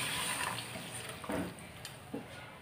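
Water swirled in a mixer jar with leftover ground moong dal is poured into a cooking pot, a soft splashing pour with a couple of brief louder gushes over steady kitchen background noise.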